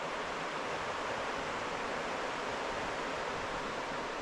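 The Didnojoki river rushes steadily past on a solo hike in the Halti fells, a loud, even broadband wash of flowing water with no pauses and no voices.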